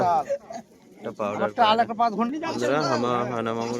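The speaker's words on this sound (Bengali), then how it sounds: "একটু পায়রা খেলানো হচ্ছে দড়ি বেঁধে" Pigeons cooing at a busy bird market in Beldanga, Murshidabad, where some birds are tethered with string and flown; soft coos sit close under almost continuous loud human talking.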